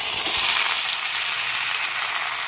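Bottle gourd with green chilies fries in a pan tempered with nigella seeds, giving a constant close hiss and sizzle that stays even from start to finish, with no talking.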